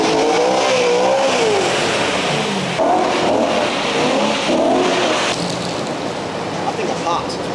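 V8 BMW M3 with a manual gearbox, its engine revving and pulling as it drives, rising and falling in pitch through several surges, loud and steady over road noise, with faint voices in places.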